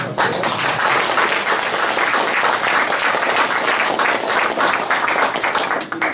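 Audience at a political forum claps together in a sustained, dense round of applause, loud and even throughout with no talk over it.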